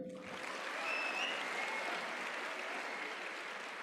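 Steady, fairly faint applause from a seated audience at a student fest ceremony, a continuous even patter with no voices over it.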